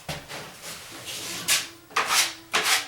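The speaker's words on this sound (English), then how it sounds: "Now I'll mud this one up." A drywall knife spreads mud along drywall seams and inside corners, producing repeated scraping strokes, soft at first and then three louder sweeps near the end, close up with no talk.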